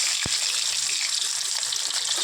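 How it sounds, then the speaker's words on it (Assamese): A steady, loud hiss of fish frying in oil, with a single sharp knock near the start. "মাছখন ভাজি দিলোঁ।"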